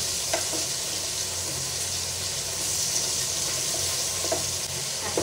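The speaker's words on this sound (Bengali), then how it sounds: "আর ভাজি পাশে আলুগুলোও দিয়ে দেবো ভাজার জন্য," Fish and potatoes frying together in one pan give a continuous close sizzle and crackle of hot oil, with a few faint clicks and no voices.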